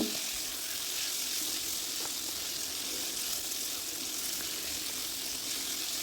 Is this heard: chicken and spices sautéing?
yes